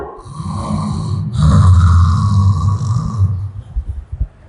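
A human voice imitates the steady, rumbling snoring of a sleeping woman, with several drawn-out snores heard alone.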